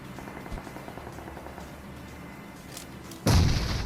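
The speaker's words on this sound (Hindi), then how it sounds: "तो मैं यहाँ पे ट्राई करता हूँ उस बंदे के ऊपर ग्रेनेड" A grenade explodes in the BGMI battle royale game, a sudden loud boom near the end following a stretch of quieter gunfire-like thumps and game ambience.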